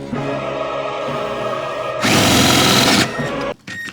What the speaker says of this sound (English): So now, for your entertainment, I'm gonna finish drilling these holes with one hand.